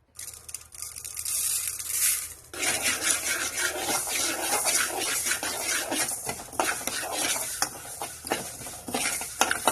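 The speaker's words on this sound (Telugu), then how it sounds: "స్టవ్ వెలిగించి కళాయి పెట్టుకొని 10 మామిడికాయలకు సరిపోను జీలకర్ర మెంతులు వేయించుకొని" Cumin and fenugreek seeds dry-roasted in a kadai on a stove are stirred steadily, giving a continuous gritty rustling and scraping with frequent sharp clicks, close and moderately loud, with no talking.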